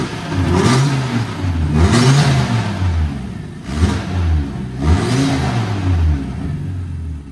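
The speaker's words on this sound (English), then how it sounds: "that engine sounds absolutely mint" An Audi RS3 engine fitted into a VW Caddy revs up and down in several strong pulls, a loud close rasping drone with brief dips between throttle blips and no talking.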